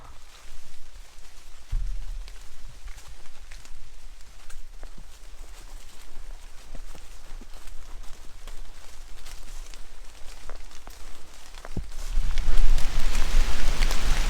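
Freezing rain patters steadily through a wilderness forest, a dense, even hiss of drops on leaves and ground that grows heavier near the end.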